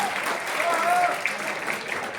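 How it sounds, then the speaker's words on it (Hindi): Audience applause at a Hindi poetry event, a steady wash of clapping throughout, with a voice speaking over it. "एक बार जोर से ताली सौरभ के लिए हो जाए"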